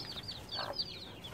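A hen gives a few soft clucks and a short squawk close by, over faint rustling background noise.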